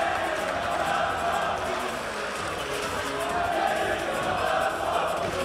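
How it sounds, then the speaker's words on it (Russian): Dynamo volleyball supporters in an arena, at a Dynamo LO versus Lokomotiv Novosibirsk Russian Championship match, keep up a dense, loud chant. The crowd roar is continuous and rhythmic and stays strong throughout. "Динамовские болельщики затянули свои кричалки."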